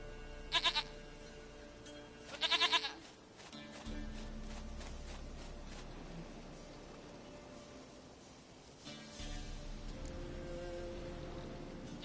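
Two short, bright goat bleats sound close together early on in The Witcher 3, then give way to steady background game ambience with a louder swell near the end.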